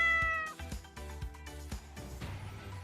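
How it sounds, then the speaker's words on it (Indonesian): A domestic cat meows several times in a row, loud and close, with drawn-out tonal cries and no talk over them. "Itu suara kucing."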